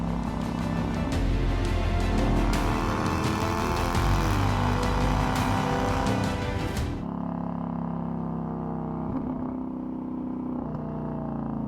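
A Lexus LS400 drives laps of the wet Nürburgring, its engine a loud, steady close roar with rising and falling revs, then dropping to a muffled, quieter cabin drone partway through.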